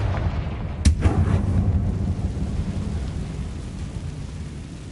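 A Confringo blasting spell in Hogwarts Legacy sets off a sharp, loud explosive burst, then a rumbling boom that rolls on and slowly fades, with no talking.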